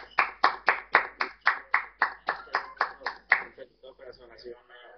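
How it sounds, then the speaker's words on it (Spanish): A single person claps hands in a steady, close rhythm of about fourteen crisp claps that stop abruptly, followed by a voice speaking softly. "Yo soy el que hago el aplauso por todos"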